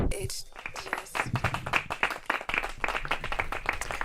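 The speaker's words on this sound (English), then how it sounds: "Everyone give another round of applause for Loque" Studio audience applause and clapping on a night-time talk show, dense and continuous for about four seconds with voices mixed in.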